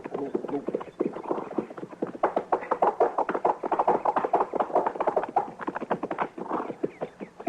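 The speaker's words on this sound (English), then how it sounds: "Pull up so we don't scare the horse, Chester." Rhythmic hollow clip-clop of horse hooves trotting on a hard surface, close and steady, with occasional voices mixed in.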